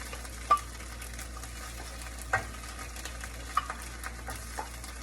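Steak fried rice with sriracha sizzles softly in a pan under a low, steady hiss, with a few scattered knocks and scrapes from stirring and no talking.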